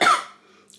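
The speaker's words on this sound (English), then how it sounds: "I have been struggling with a bad cough and wheezing, really bad wheezing." A single sharp, harsh cough from a woman suffering a bad cough and wheezing bursts out up close, then fades into a quiet breathy tail.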